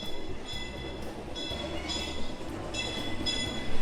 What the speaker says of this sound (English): as we watch the train go by in the background